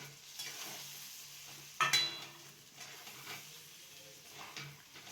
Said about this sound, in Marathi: आता ते मासे टाकून घ्यायचे